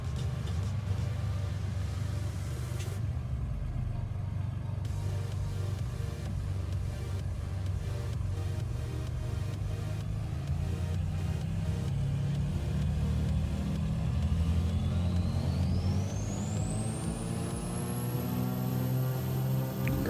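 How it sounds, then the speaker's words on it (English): Jet engines spool up inside a flight simulator, a steady low rumble topped by a whine that climbs in pitch as the engines rise in power, with no talk over it. "now we get to hear the engines as they spool up"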